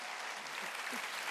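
A church congregation clapping during a sermon, a brief dense wash of many hands applauding, steady and fairly distant.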